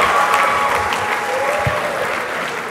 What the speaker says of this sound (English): Shall we have another resounding round of applause for yourselves